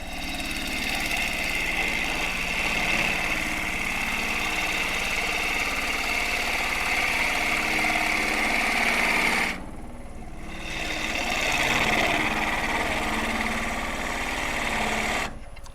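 Wood lathe spinning a driftwood burl while a half-inch bowl gouge cuts it, a steady loud droning whir that runs without letup, dips briefly partway through, then resumes.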